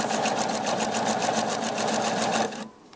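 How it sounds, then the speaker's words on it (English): A sewing machine stitches through paper-pieced fabric layers in a fast, even mechanical rhythm of close needle strokes for about two and a half seconds, then stops abruptly. "right now I'm sewing through my layers, my E2 to my E1 pieces"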